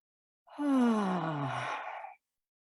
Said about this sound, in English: let's just take a couple of deep breaths.